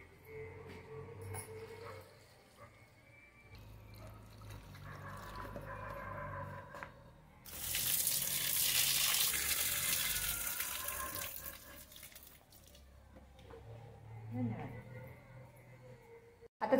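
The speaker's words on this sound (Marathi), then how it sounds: "चला आता झाडांना अगोदर पाणी घालते" Water splashes and pours onto garden plants in a burst of several seconds, preceded and followed by someone talking, with household background sounds and a dog faintly audible.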